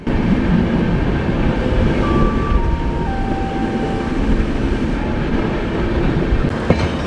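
Sealdah Rajdhani Express rolls into Kanpur Central, heard from inside the coach as a loud, steady rumble of wheels and rails with a faint whistling tone and a few clicks near the end.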